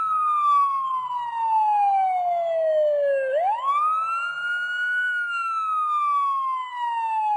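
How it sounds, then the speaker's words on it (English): A wailing siren rises and falls in long, smooth sweeps, steady and continuous, sounding somewhat distant with no voices over it. "In the distance they heard a siren."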